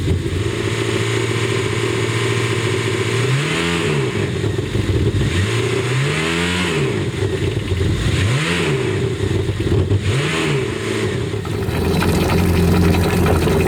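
A Yamaha jet boat engine runs steadily, a loud continuous drone with several rising-and-falling revs in the middle before settling back to an even idle.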